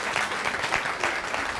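Audience applause at a church service led by an apostle, a dense steady burst of clapping from a crowd, close and full for under two seconds.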